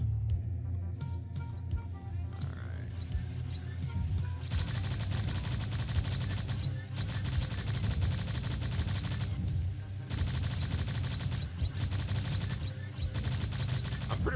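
Sustained rapid gunfire from a weapon in the video game Strife, dense and continuous bursts that fill the whole stretch with brief gaps, loud and close.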